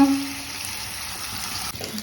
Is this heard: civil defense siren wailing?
no